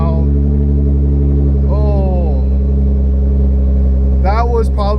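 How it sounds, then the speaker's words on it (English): A widebody Nissan GT-R sits just after startup, close and loud, with a heavy, steady low engine drone and a few rising rev-like swells. A voice is heard over the engine. "That was probably the most gnarliest startup I've ever had with this car yet."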